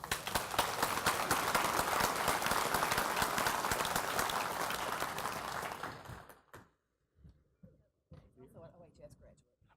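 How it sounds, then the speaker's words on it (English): An audience at a morning breakfast event claps in a dense, lively burst for about six seconds, then the applause stops abruptly, leaving faint scattered sounds and a voice. "give a rousing round of applause to a young lady whose name says it all"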